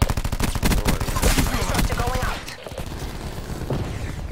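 Dense automatic gunfire in Call of Duty: Black Ops 4 multiplayer, rapid loud bursts from several weapons overlapping with in-game effects, nearly continuous with a brief dip midway, and a voice talking over it.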